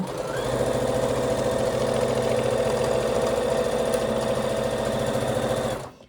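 A modern Brother sewing machine stitches steadily through fabric for about six seconds, a fast, even mechanical whir with rapid needle clatter, close and loud, stopping abruptly at the end.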